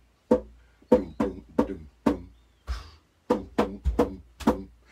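A big mallet pounds on homemade LEGO drums with tightly stretched skins of different shapes and sizes, giving about nine loud, hollow thumps in a quick, uneven rhythm with short gaps between them.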